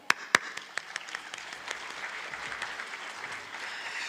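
An audience at the opening ceremony of a parliamentary regional seminar in Pakistan's National Assembly breaks into applause, a few sharp early claps swelling into steady, even clapping from a sizable hall crowd.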